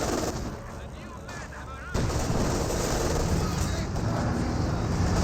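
Gunfire crackles through a Company of Heroes 2 battle, with PTRS anti-tank rifles firing on armor amid a dense, continuous wash of shots and explosions that jumps louder partway through.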